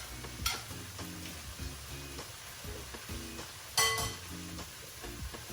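Prawns frying in a pan with a wine sauce for prawn linguine, a steady close sizzle broken by repeated stirring and turning clinks, with one brief louder hiss partway through.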